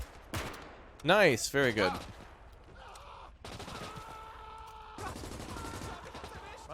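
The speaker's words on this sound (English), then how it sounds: "MG-34 firing here." An MG-34 machine gun firing in the WWII game Call to Arms, fast sharp bursts rattling among other battlefield gunfire, mixed with voices and a brief spoken remark.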